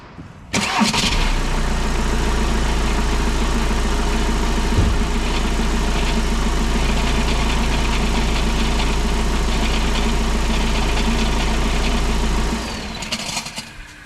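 VW T6 Transporter engine with a faulty flywheel starting and then idling steadily with a low rumble and faint knocking rattle before shutting off, recorded up close.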